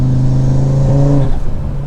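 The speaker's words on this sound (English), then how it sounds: "And with the mods, of course, the exhaust sounds incredible. The intake, you hear the blow-off noise, the turbo." A 2024 Audi RS3 with modified exhaust and turbo accelerates close by, its loud, steady engine note stepping up in pitch partway through and then holding, with no one talking.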